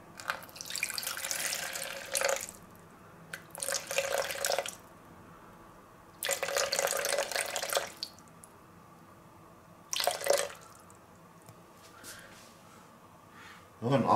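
Tap water runs through a water filter into a container in a home kitchen, in several separate bursts of flow with quiet gaps between them, fairly close.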